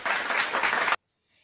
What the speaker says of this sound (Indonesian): Beri tepuk tangan untuk Alma.